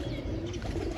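A pigeon comes down onto a perch and gives low, soft coos, close and clear over a short moment without any talking.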